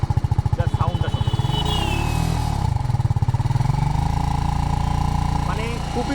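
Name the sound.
TVS Apache RR310 motorcycle engine revving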